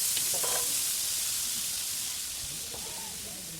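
Beef tripe dropped into mustard oil in a wok over a clay stove, giving a steady, broad sizzle close by, loud at first and easing slightly as it continues.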